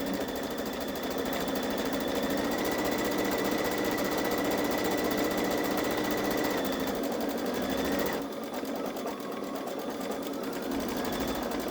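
A Baby Lock Solaris Vision Journey embroidery machine stitches the outline of a logo onto practice fabric, giving a steady, loud mechanical whir with tonal hum that continues throughout, with a slight shift in pitch and level near the end.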